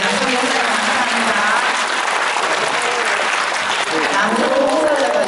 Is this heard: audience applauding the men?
yes